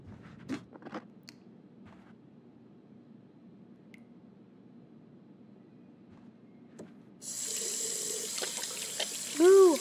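A tap in the Captain Spirit video game starts running about two-thirds of the way in, a steady hiss of water after quiet ambience with a few soft clicks, and a short tonal squeak at the very end.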